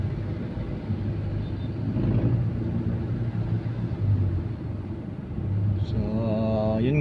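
Idling car engine in a long, stalled traffic jam, a steady low rumble close by with faint horn-like tones and a short rising engine note near the end.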